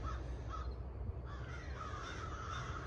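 Crows caw repeatedly outdoors near a golf cart graveyard, a few loud harsh calls spaced across a soft background hum.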